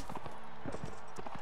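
Horse hooves clip-clop rapidly during mounted combat in the medieval game Mount & Blade: Warband, a quick irregular patter of hoofbeats mixed with game noise, fairly faint in a short burst.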